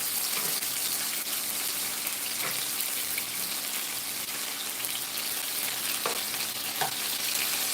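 Chicken pieces frying in a pan with a steady loud sizzle throughout, punctuated by a few brief clinks and scrapes as pieces are flipped.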